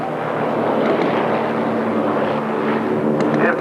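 Propeller-driven Byron Originals model airplanes fly a formation loop overhead, a steady, full engine drone holding for several seconds with no talk.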